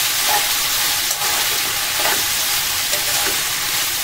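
Vegetables are stirred in a hot frying pan for Indian-style Mongolian rice, a constant loud hiss of frying with soft scraping strokes of a spoon every second or so, near and without voices.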